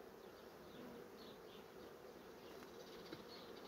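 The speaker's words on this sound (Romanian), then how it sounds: "O să urce albina pe rame." Honeybees crawl and buzz around the frames of a hive during a swarming period, a dense, continuous close-up hum with no talk, a few individual bees briefly whining louder as they pass near.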